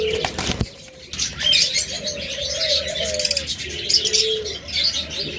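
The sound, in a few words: caged pet birds chirping, cockatiel and budgerigar pairs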